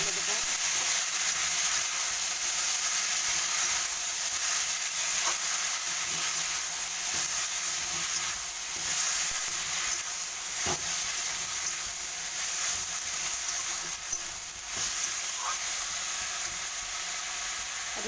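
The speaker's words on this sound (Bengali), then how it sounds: "আর এইটাকে আর একটু লাড়তে থাকবে।" Pumpkin and pumpkin leaves stir-fry in a hot pan for a pumpkin stew, a continuous close sizzle and hiss with occasional soft scrapes from stirring, steady throughout with no one speaking.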